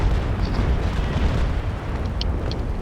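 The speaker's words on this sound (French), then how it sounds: "T'étais trop proche de l'explosion, quoi." A loud explosion in a naval battle video game, a deep rumbling boom that rolls on for the whole moment with faint crackles on top and no voices.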